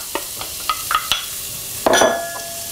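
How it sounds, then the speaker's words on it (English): Onions dropped into hot oil in a pan for coq au vin make a loud close sizzle with a burst of crackling and several clinks and scrapes of a utensil, and no voices. "The first thing I'm going to do now is to add my onions"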